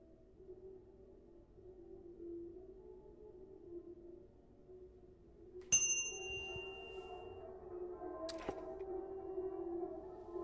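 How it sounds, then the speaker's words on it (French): In a hotel video game, a reception desk bell gives two bright metallic dings several seconds apart over a quiet ambient hum. "Faudrait peut-être que tu sonnes la cloche."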